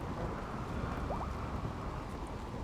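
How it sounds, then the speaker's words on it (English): Steady broadband rain hiss from a stormy outdoor scene in the colony-building video game RimWorld, continuous and even throughout with no voices over it. "They're already dealing with rain as is"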